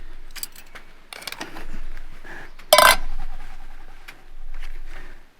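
A full English breakfast being dished up onto plates beside a British Army stove, with scattered clinks and scrapes of utensils, a sharp clatter partway through, and birds cooing and calling nearby.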